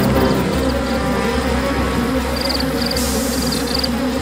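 Dense, steady insect buzzing from bees in the Bee Movie video game fills the clip, loud and continuous, with faint high electronic tones joining midway.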